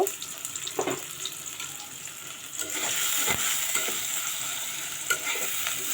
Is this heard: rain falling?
no